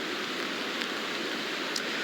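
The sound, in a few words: steady rain with wind outdoors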